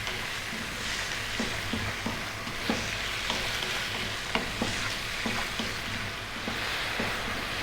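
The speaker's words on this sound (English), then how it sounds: "we're going to go for 8 to 9 minutes now, and we're going to be stirring every minute or so." Beef curry frying over medium heat in a pan, a steady sizzle with periodic stirring scrapes and knocks at an irregular rhythm, close and moderately loud, no voices.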